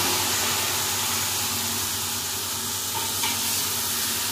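Chopped red amaranth greens frying in a pan with crab fat give a loud, continuous sizzle and hiss with light stirring noise, steady throughout and with no talking.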